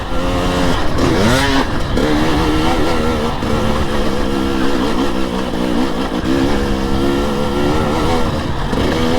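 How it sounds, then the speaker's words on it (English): A KTM 300 XC-W TPI two-stroke dirt bike engine revs hard and steadily, its buzzing pitch rising and falling in sweeps, loud and close throughout with no talking. "The sound of two-stroke"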